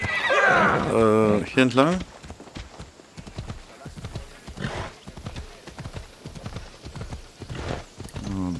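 A horse in Assassin's Creed Odyssey whinnies loudly at the start, then its hooves clip-clop at a steady gallop rhythm throughout, close by, while someone talks over it.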